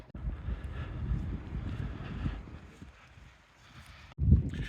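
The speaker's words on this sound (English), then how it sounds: "It is pretty windy" Gusty wind buffets the microphone at a Ruch Chorzów versus Korona Kielce football match, rumbling in uneven bursts that ease off before a sharp blast at the end.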